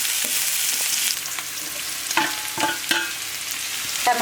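Green chili, garlic and onion frying in a spoonful of oil with chana dal for a chutney, a steady close sizzle broken by a few sharp stirring scrapes, with no voices.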